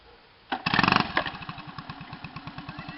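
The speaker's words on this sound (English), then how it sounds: "Well, I got it running now, and it's time for me to take it on its first ride." A Honda ATC 110 three-wheeler engine catches with a loud burst of revving, then settles into a steady, close-up putt-putt idle with clear regular firing pulses.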